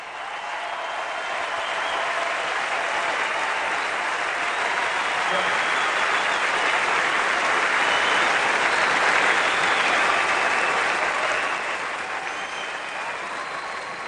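A crowd of about 15,000 at a tennis semifinal in a large arena applauds and cheers. The dense, sustained roar holds loud for over ten seconds before slowly easing.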